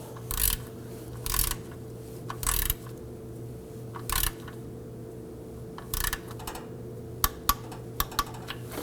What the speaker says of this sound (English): let's go ahead and tighten and torque that